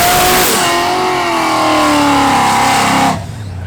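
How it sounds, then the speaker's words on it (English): An all-motor LS nitrous car and a 2JZ-swapped Nissan S14 at a legal street race, engines roaring loudly and close with rising revs that sweep upward under acceleration, then drop away abruptly near the end. "All motor LS nitrous car versus 2JZ S14"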